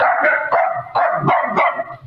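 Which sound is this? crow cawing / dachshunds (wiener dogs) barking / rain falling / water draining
dachshunds (wiener dogs) barking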